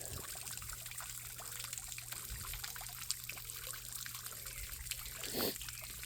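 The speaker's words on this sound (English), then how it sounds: "all of the water starts pouring all over here" Water from a backyard garden fountain spills and trickles where it shouldn't, a continuous soft splashing stream with little drips and a brief heavier splash, close by and alone.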